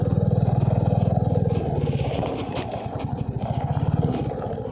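Royal Enfield motorcycle engine labouring under load, a steady low thumping drone with rapid pulsing, close and loud throughout, slight wind noise over it.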